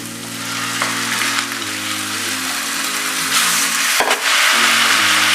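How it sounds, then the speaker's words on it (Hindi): Chicken keema sizzling and frying in a hot pan, a loud continuous crackle with a brief stirring break near the end and no talk. "इसे हम थोड़ा फ्राई करेंगे। अब हम इसमें ये कीमा डालेंगे।"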